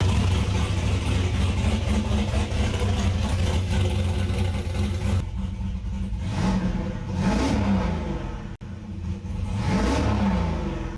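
A turbocharged F-body Camaro SS engine running after its first startup: a loud, steady idle that lifts into a couple of revs in the second half, with a brief dropout near the end before the engine note resumes.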